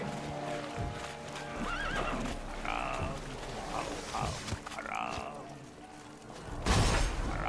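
Horses in The Witcher 3: Blood and Wine neigh and whinny several times with rapid clip-clopping hooves, layered over combat noise and a constant game soundscape, with a loud burst near the end.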